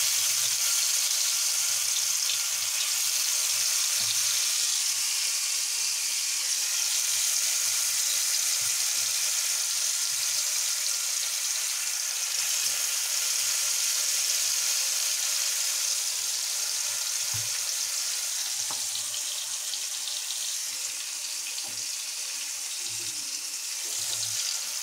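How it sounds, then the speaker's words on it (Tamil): Slices of elephant foot yam, coated in spice masala, fry on a flat dosa pan with a steady, close hiss of sizzling oil. The sizzle continues unbroken throughout, with no talking. "கருணக்கிழங்கு தடவி எடுத்து தோசைக்குள்ளே போட்டுக்கலாம்."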